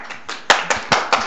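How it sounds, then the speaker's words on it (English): Clapping at a city council meeting: a few sharp, close hand claps at a slightly uneven pace, with a small group joining in, and no voices over them. "I wouldn't clap yet."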